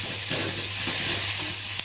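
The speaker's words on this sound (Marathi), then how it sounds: "कांदा जरा थोडा ब्राऊन होऊ दे" Onion frying and browning in a pan for a pointed gourd (parwal) vegetable dish: a dense, steady sizzle at close range with faint stirring scrapes, alone for a short moment.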